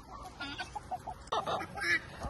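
Chickens cluck softly in a coop, a few short, uneven clucks and murmurs close by over quiet background noise.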